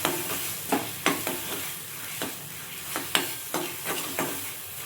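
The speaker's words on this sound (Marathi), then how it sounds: "मसाले घालून झाल्याच्या नंतर आपण याला छान अशा पद्धतीने परतून घेऊ" Spices for dhaba-style chana masala are stir-fried in a pan, with a steady sizzle and a series of regular scraping strokes from the spatula, close and fairly loud.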